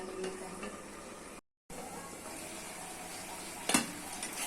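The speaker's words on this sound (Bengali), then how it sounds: "এইভাবে কষু কষু রান্না করে নিতে হবে" Pumpkin and Malabar spinach with dried shrimp sautéing in a pan, a continuous close sizzle and crackle of frying with a brief scrape of stirring near the end and a short silent gap partway through.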